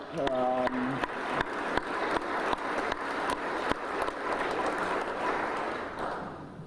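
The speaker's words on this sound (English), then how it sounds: "I also want to give a round of applause to our educators" Applause from an audience at a chamber of commerce legislative breakfast, honoring local educators: a steady, dense wash of clapping with a few sharper claps standing out, sustained for several seconds before tapering slightly.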